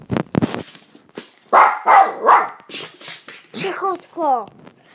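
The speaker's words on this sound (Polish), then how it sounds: "jak już uspokoję psa" An excited dog barks several times in quick bursts, close and loud, mixed with whimpering yips, while a person talks over and between the barks indoors.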